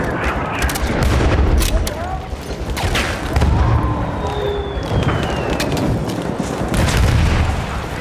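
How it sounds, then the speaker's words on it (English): Rapid machine gun fire and heavy booms fill a Battlefield 1 battle scene, with dense bursts continuing throughout, loud and close, under shouted game voices. "There's a machine gun!"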